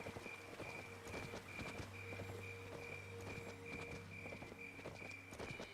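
Horse hooves clip-clop at a steady walking pace in the Petz Horsez 2 video game, a regular moderate beat over a soft tonal game background, no talking.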